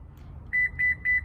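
A 2021–2022 Lexus RX power back door gives three short, evenly spaced electronic beeps at close range while its memory position is cleared, heard over a low background hum.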